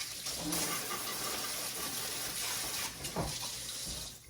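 Running water rinses a trimmed desert rose cutting after an alcohol cleaning for mealybugs, a steady close splashing stream that holds for several seconds with a brief surge near the end.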